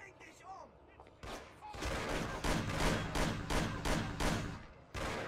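Rapid bursts of gunfire in the video game Mafia during the mission Die Hure, a series of loud, repeated volleys that come close together, with people talking over the shots.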